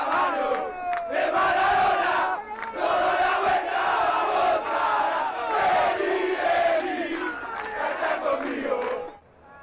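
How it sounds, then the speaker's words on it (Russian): A huge crowd in the streets of Buenos Aires bids farewell to Diego Maradona, loud chanting and shouting voices rising and falling in waves, dense and close, fading out at the end. "Попрощаться с легендой футбола на улице столицы вышла огромная толпа"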